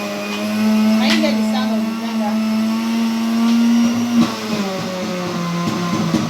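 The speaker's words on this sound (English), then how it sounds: "the blender is not going to be able to take everything at once" A blender motor whirs steadily at high speed, its hum shifting slightly in pitch as the load changes, running loud and close throughout.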